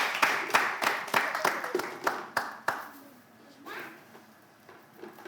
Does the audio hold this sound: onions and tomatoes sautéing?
no